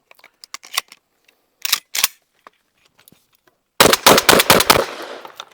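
Five shotgun blasts from a Sulun Arms SPAS-12 loaded with 1 1/8 ounce heavy lead 7.5 shot, fired in a fast, loud burst after a stretch of faint clicks and two handling knocks.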